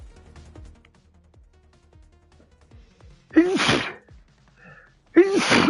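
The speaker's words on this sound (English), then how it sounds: "Oh, fuck these sneezes, bro." Two sharp, loud sneezes from a man burst out close to the microphone, a couple of seconds apart, after a stretch of quiet background.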